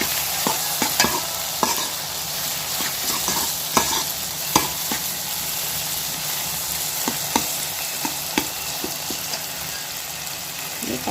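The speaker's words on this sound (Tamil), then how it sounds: "தக்காளி நல்லா வதங்கிட்டு தக்காளி நல்லா மையாக நசிஞ்சு வதங்கணும்" Tomatoes sauté in a pan for a fish curry, giving a steady close sizzle with repeated sharp scrapes and taps of a spoon stirring against the metal.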